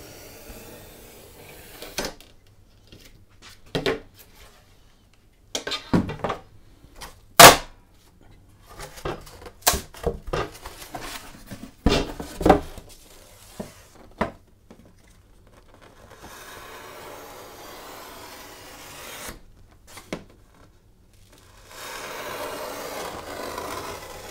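Thick foam board cut in several smaller passes gives scattered sharp snaps, scrapes and rasping strokes, irregular and close, with quiet gaps between bursts and a steadier rubbing stretch toward the end; no speech.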